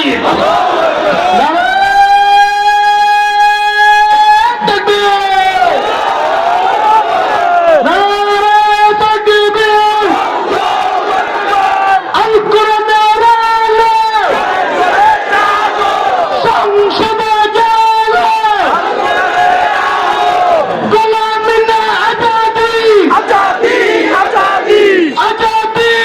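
A large crowd at an outdoor Islamic sermon shouts the takbir in unison, loud sustained chanted cries rising and falling in several waves with brief gaps between each response.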